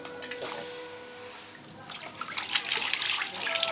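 Water poured out for washing hands, a splashing, trickling stream that comes and goes, then grows louder and busier toward the end, close by with a faint electrical hum underneath.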